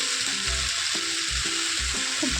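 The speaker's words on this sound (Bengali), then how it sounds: "ভাজা হয়ে গেলে এবার ম্যাগি মশলাগুলো দিয়ে আবার ভালো করে নাড়িয়ে নেব।" Chowmein stir-fries with Maggi masala in a hot pan, a loud continuous sizzle with a steady rhythm of low thumping spatula strokes about twice per second, close up.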